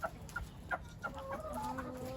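Hens cluck in a backyard chicken coop, several short clucks and calls repeating close by, with no talk over them.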